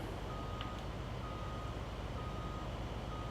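A truck in Farming Simulator 19 backs up, its reversing alarm giving steady repeating beeps over a constant idling engine rumble, with no talking.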